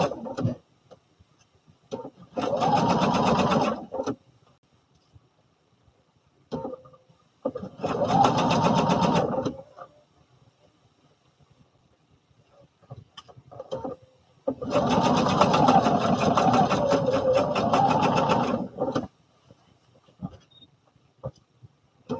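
A sewing machine stitches fabric for a garment made from the Butterick 5967 pattern, running in three long, loud bursts of rapid mechanical whirring separated by quiet pauses with small clicks.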